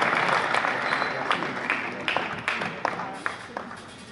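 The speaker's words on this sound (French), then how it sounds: "je pense que déjà on peut applaudir tout ce beau monde" An audience at a basketball coaching clinic on pick-and-roll offense applauds the volunteers: dense, steady clapping that fills the room, with a few sharper individual claps standing out as it slowly tapers.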